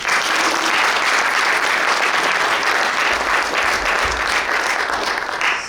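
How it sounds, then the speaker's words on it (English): Loud, dense applause from a conference audience at a Nordic healthtech event, sustained clapping from a large crowd filling the hall evenly from start to finish. "give a nice applause."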